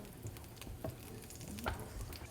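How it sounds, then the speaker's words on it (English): Peppercorns heating in a pan over high heat, giving a soft, continuous sizzle with scattered small pops and ticks, close and quiet, with no talking. "The peppercorns are starting to pop a little bit."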